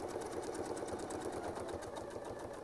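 Steady, rapid whirring of a sewing machine stitching along a Westalee Yin and Yang template, running continuously and close throughout with no voices.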